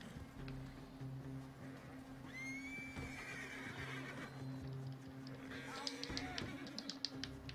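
Horse neighing in the video game Red Dead Redemption 2, a rising whinny around the middle of the clip with hoof clip-clop and game ambience beneath, plus a second fainter whinny near the end.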